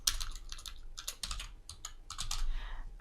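Computer keyboard typing, a quick run of close, crisp key clicks in short irregular bursts.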